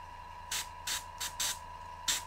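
Airbrush spraying paint in short bursts while glazing burgundy shadows over a blue cloak: five hissing sprays of about a quarter second each, close and moderately loud, over a faint steady hum.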